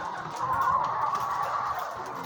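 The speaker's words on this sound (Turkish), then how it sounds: "Bunlar artık bizim yumurta tavuklarımız." Laying hens cluck and murmur softly together in a continuous low chorus, sounding like a crowded coop nearby.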